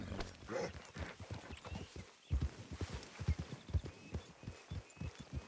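Horse hooves clip-clop in a video game, a steady series of close, muffled hoofbeats against faint ambient noise, with no talk over them.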